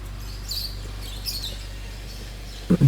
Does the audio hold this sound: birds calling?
yes